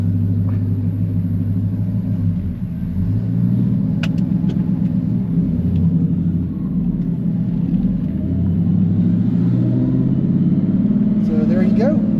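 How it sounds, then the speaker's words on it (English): A car from a Coyote engine build drives around the block, its engine a continuous, close rumble that rises and falls in pitch as it accelerates and slows. "We'll just go for a little drive around the block"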